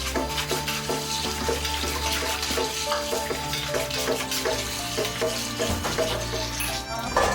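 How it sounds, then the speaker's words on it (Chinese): Blanched king oyster mushrooms stirred quickly under a running cold tap, with a steady rush of water and repeated sloshing and clattering against the container, close and continuous. "放在水龙头下面，用凉水快速搅拌。"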